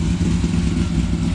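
1955 Chevy Bel Air with a 502 big-block V8 idling at about 1,000 RPM with the A/C on, a steady, loud, close-up low rumble without voices.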